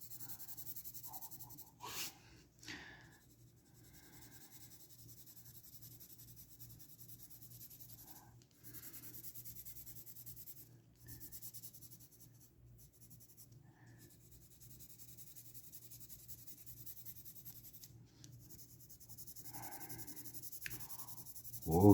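Pencil shading and smoothing the shadow of a drawn sphere on paper, a quiet continuous scratchy rubbing with a few louder strokes, close and alone with no talk.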